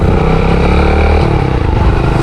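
A Yamaha YBR 125 motorcycle engine revs up steadily while riding, a loud, continuous buzzing drone rising through the revs close to the mic, with no talk over it.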